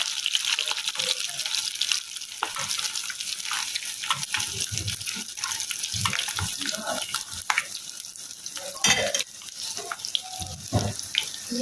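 Food frying crisply in a pan in a home kitchen, a steady bed of sizzle mixed with water-like hiss, clatter and stirring, while people talk nearby.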